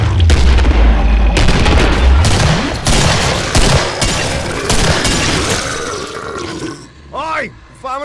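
A fired bomb exploding in the shooter game Killing Floor, a heavy boom followed by crackling blasts and debris under loud in-game shouting and gunfire, ending in warbling effects.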